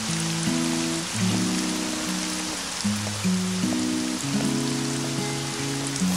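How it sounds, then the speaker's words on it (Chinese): Steady rain falls with a dense, hissing patter that continues throughout, while a soft melodic music score plays over it. "下雨了。"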